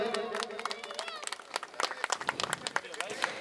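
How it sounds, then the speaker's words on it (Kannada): Crowd clapping at a cricket trophy closing ceremony during a cake-cutting celebration, a burst of many hands applauding close by, with voices mixed in. "ಜೋರಾದ ಚಪ್ಪಾಳೆ ಬರಲಿ."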